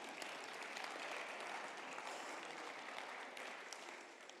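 Faint, distant applause from an audience patters on steadily, fading slightly at the end.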